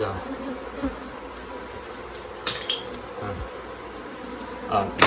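Angry bees buzz inside a house wall that holds honeycomb, a dense continuous droning hum with a few faint clicks and knocks over it.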